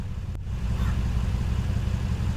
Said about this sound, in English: It's gone into a more louder version of the exhaust